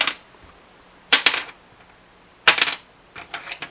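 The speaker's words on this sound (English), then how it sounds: "That's what a bone blank sounds like." A guitar saddle bone blank tapped against a hard surface gives three short, bright clicking taps spaced apart, close and clear over a quiet room.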